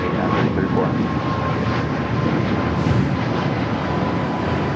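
A United Airlines Boeing 737 MAX 8 takes off from LAX with a loud, steady jet engine roar that fills the scene throughout, heard from the airport grounds.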